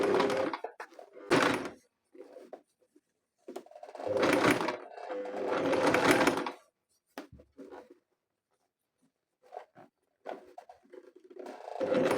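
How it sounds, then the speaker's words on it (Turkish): A sewing machine stitches a denim jeans hem in several short separate bursts, two longer runs standing out, with near silence and small handling noises between. "Şimdi buraya bir makinede dikiş çekeceğim"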